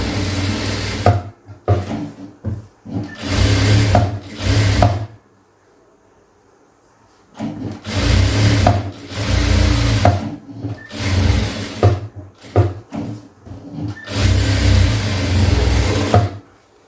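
A sewing machine stitches a seam around a cut blouse piece in several loud, close bursts of rapid needle chatter, broken by short pauses and one longer silence.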